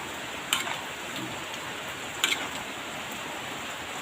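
Steady rain pattering on a surface, a constant dense wash of fine drops with a couple of slightly louder splashes, no voices.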